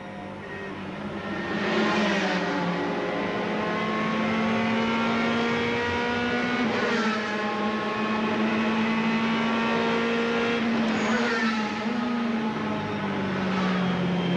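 GT race cars at the 2006 Spa-Francorchamps 24 Hours braking into a double left-hander and accelerating away, engines revving and shifting through gears in a steady loud onboard drone, with another car passing.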